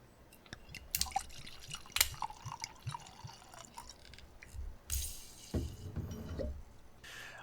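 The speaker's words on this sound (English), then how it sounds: "I'm going to pour in the glass." Sake poured into a glass for a tasting: irregular drips and splashes with a glugging liquid pour near the end, fairly close and quiet, with no talking.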